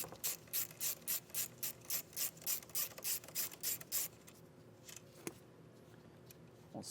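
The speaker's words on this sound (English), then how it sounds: "Now with a 10mm socket, we'll disconnect this nut right here." Ratchet wrench with a 10mm socket clicking in quick, regular bursts while loosening a nut on a 2023 Mitsubishi, about a dozen close, crisp strokes, followed by quieter handling and a single sharp knock.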